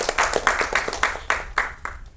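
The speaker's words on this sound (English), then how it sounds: "Once more, round of applause to Sirin for being our inspiration." Audience at a film trailer launch event applauding, a loud close round of uneven claps with sharp rhythmic bursts that gradually thins out.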